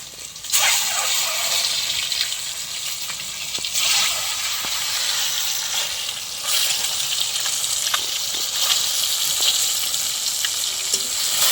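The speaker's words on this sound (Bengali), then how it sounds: "ডিমগুলোকে ভালো করে ভেজে নেব।" Eggs seasoned with turmeric and salt fry in hot oil in a wok, giving a loud, continuous sizzle with crackling surges and occasional clinks of a utensil.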